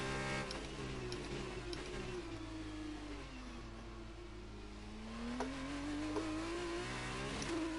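An F2 race car engine in the game F1 2019 revs high, dips and climbs again as gears change on a downshift, a steady whining drone with harmonic pitch sweeps and a few sharp blips, loud and continuous, no voices.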